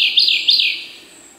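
A nightingale sings in woodland on the border of Altai and Kuzbass, giving two clear, close whistled phrases in quick succession before fading to quiet.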